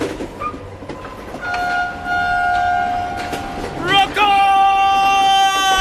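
A running train, steady rumbling rail noise with rising tonal squeals and whistle-like tones building toward the end, loud and close, with voices heard over it.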